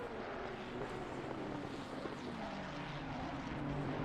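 A race car in a virtual Le Mans race at Monza roars with a steady, loud engine drone that holds unbroken from start to end, with no talking over it.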